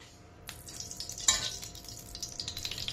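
A little oil sizzles and crackles in a pan on a home kitchen stove. The hiss starts after a short quiet moment, flares briefly, then keeps up a steady close frying sizzle.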